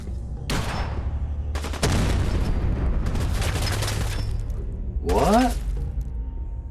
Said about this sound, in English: What's he got, a shotgun?